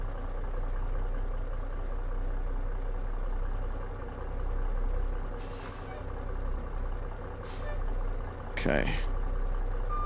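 A Peterbilt 362 truck in American Truck Simulator idles and creeps forward with a low, steady engine rumble. A few short hisses and a brief squeal cut through near the end, and a voice speaks briefly once.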